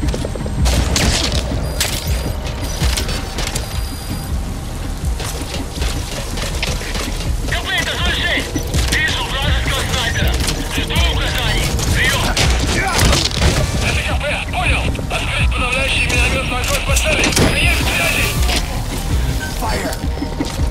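Gunfire in Metal Gear Solid 5 during a firefight, dense continuous bursts of shots with booms and crashes for the whole stretch, loud and close, with voices shouting over it.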